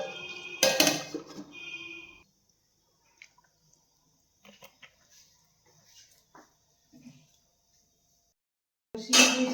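A metal lid is set over a cooking pot of simmering chicken and potatoes in a home kitchen, giving a loud close clatter with a ringing tail, then faint scattered clinks and another sharp clatter at the end.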